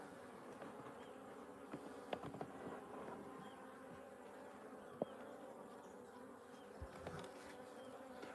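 Australian honey bees from a captured swarm buzz steadily around their hive during a midsummer hive check, a continuous insect drone with a few louder passes of bees flying close.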